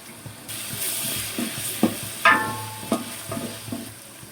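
Onion fries in a pan with bay leaf and garlic paste, giving a soft continuous sizzle. Several sharp scrapes and clinks of a stirring spoon against the pan break through it at close range.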